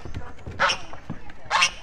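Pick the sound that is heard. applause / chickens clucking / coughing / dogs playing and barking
dogs playing and barking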